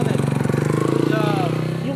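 An off-road trail motorcycle engine runs loud and close in a rapid, steady pulsing chug that eases slightly toward the end, with a voice faintly heard over it.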